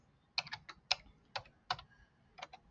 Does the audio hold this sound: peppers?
no